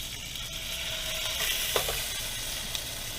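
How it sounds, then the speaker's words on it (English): Freshly caught fish sizzle loudly in a pan at a campsite, a continuous bright hiss with a couple of faint clicks and no voices. "I'm gonna fry these bad boys up"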